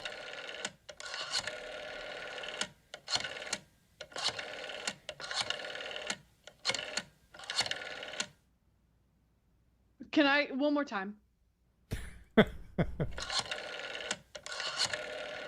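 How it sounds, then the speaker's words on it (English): A rotary telephone bell rings in one short trilling burst, set apart between stretches of close conversational speech. "That is a rotary phone."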